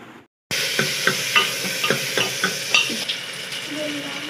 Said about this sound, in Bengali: দেখো এখানে চলছে পেঁয়াজ, টমেটো, রসুন সব ভাজা চলছে